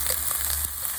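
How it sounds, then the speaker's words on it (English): Mushrooms sear in a hot pan with a continuous, even sizzle and crackle. The sound is close and fairly loud. "we're gonna sear these on both sides. I want a nice deep brown sear on them"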